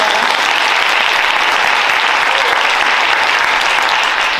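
Audience applause follows a gayageum byeongchang performer's thanks at a concert, sustained thick clapping, loud and even from start to finish.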